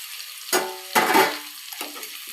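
Chicken pieces tipped into hot oil with lightly browned garlic, producing two loud bursts of sizzling that fade quickly, followed by a softer stir and crackle.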